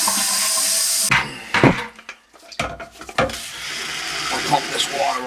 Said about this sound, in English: I'll pump this water out and I'll put antifreeze in there.